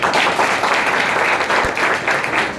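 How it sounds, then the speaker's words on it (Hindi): Loud, sustained applause from an audience, many hands clapping steadily throughout. "एक बार इनके नाम पे तालियां"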